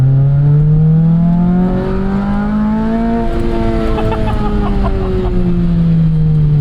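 A loud 1.8-liter Toyota 2ZZ engine in a 2006 Lotus Elise revs hard nearby, its pitch climbing steadily in a strong, continuous whine with a shift in tone midway as the second cam engages at 5,500 RPM. No talking.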